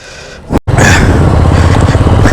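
A Royal Enfield Hunter 350 motorcycle engine runs through its silencer exhaust. After a short cut, a loud, close, rough roar with a steady pulsing beat follows.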